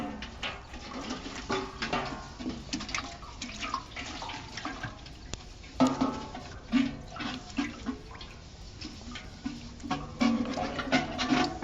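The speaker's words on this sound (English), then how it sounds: "we wash all the pieces the same time that we're washing the filter" Running water washes over filter pieces, a steady splashing and trickling stream with irregular sloshes and drips, close and continuous throughout.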